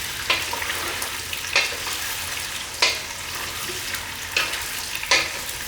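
Broad beans deep frying in hot oil over high heat, a steady bubbling sizzle with periodic sharper crackling bursts roughly every second and a quarter, close and moderately loud, no voices.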